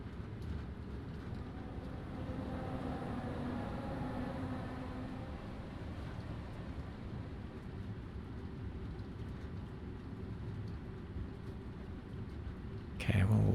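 London Underground train in Train Sim World 2 running on a climb, a steady low rumble and hum of the moving train throughout, with a short sharp knock at the very end.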